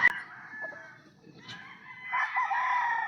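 Chickens and roosters on a farm range, with a nearby rooster crowing at the start and more crowing and clucking swelling across the flock toward the end.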